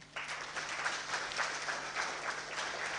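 An audience at a scholarship anniversary ceremony applauds a speaker, with steady, moderately distant clapping that runs evenly throughout.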